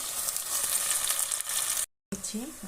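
Chopped cauliflower goes into a pan of tomato sauce already frying, giving a steady close sizzle with some stirring, then a brief cut to silence before the frying resumes.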